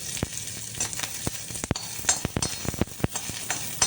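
Chilies and small sambar onions sauté in a hot pan, sizzling and crackling steadily up close, while a utensil gives repeated sharp scrapes and taps against the pan.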